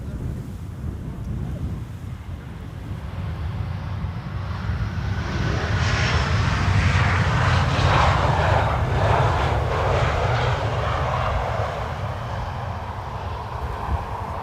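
Fixed-wing airliner arriving at Amsterdam Schiphol Airport on a sunny, crosswindy day, its engine roar swelling steadily and holding loud with broad rushing noise and some wind buffeting on the microphone.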